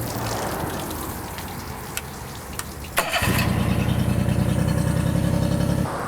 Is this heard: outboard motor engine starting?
yes